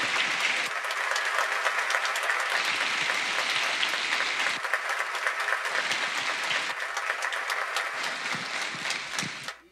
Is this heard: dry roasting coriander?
no